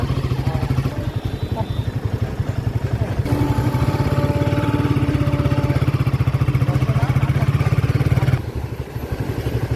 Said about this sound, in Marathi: एक साइड से हम बाइक चला रहे